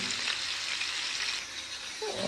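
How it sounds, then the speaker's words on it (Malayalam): Karimeen, pearl spot fish, cooking in a pan, giving a continuous soft hiss and sizzle of hot oil, close and even, with a brief faint clink near the end. "മീൻ നല്ല തിരിച്ചു മറിച്ചിട്ട് നല്ലവണ്ണം വേവിക്കണം"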